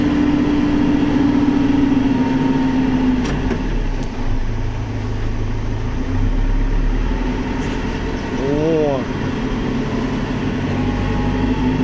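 A CAT excavator's diesel engine drones steadily nearby, a continuous low mechanical hum with faint clanks over it and no speech.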